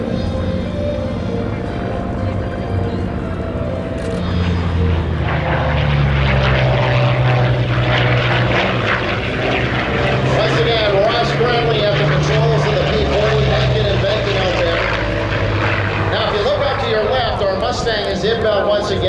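A P-40 Kittyhawk warbird with its propeller engine roars past at an airshow, a loud sustained drone that swells and shifts pitch as the plane flies by, with a commentator's voice over the PA.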